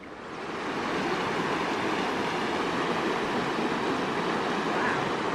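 Black Brook, a stream on a walk near Lud's Church, rushing in a steady, dense wash of flowing water that swells in over the first second and then holds constant and close, with no voices.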